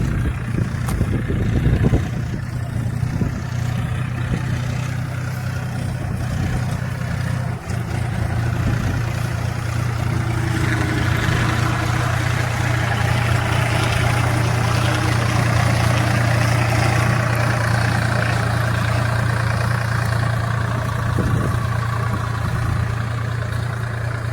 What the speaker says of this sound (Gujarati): ભરાઈ ગયું ટ્રેક્ટર હવે જાય છે